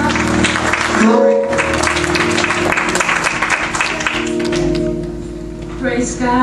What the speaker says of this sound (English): Can we give her a hand clap as she comes up?